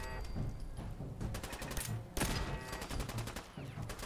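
Turrets firing in the video game Fallout 4, a dense crackling burst of rapid gunfire with a sharper blast midway, busy and fairly loud without talk.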